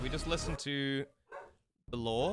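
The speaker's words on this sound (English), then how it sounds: "Sorry about the dog chat. He's a very angry boy today." A pet dog barks close by in a quiet room, a few short, gruff barks alternating with a man's speech.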